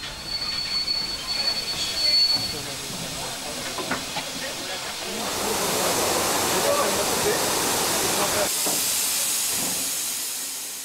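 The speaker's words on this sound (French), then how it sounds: "les manœuvres en gare sont toujours une attraction, car elles permettent de voir fonctionner au ralenti le subtil mécanisme des bielles" Steam locomotive 241 P 17 maneuvers slowly in a French station, steady hiss of escaping steam swelling midway with faint wheel squeal and clanks, a narrator speaking over it.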